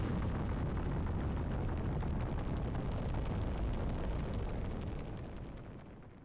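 A huge explosion at the ending of Final Fantasy Tactics, a roaring, rumbling blast that holds loud and steady for about five seconds before fading away, heard alone without voices.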